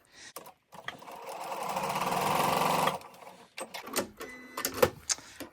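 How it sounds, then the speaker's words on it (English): A sewing machine chain-stitches fabric pieces together in one rapid whirring run of about two seconds, bracketed by quiet clicks and handling sounds. "I've already got my machine set and I'm just going to sew down here"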